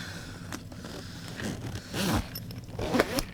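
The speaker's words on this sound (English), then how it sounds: "can zip it right on up" A mini backpack being zipped closed, its zipper rasping in a few quick close-up strokes with small rustles of fabric in between and no talking.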